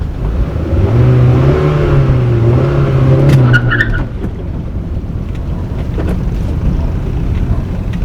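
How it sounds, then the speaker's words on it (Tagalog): Engine of a vehicle with its stock exhaust refitted and catalytic converter removed, revving up with a rising drone, holding, then dropping back to a low rumbling idle, loud and close. "Rev natin."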